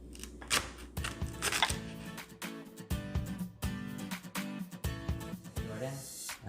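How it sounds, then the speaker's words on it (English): A knife slices a zucchini into pieces, with repeated sharp cutting clicks set against steady background music. "Jordan's going to cut one of the zucchinis."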